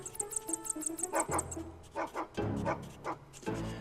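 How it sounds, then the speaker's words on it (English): A dog barks in the video game Geist, several short yapping barks in quick bursts mixed with game sound effects and a high ticking pattern at the start. "because the dog can bark, we can easily scare the rats"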